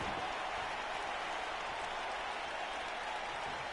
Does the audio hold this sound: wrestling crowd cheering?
yes